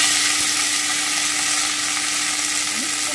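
Washed neem leaves hiss and crackle in hot oil in a pan as a steady, dense sizzle with no pauses and no talk, part of cooking neem with brinjal.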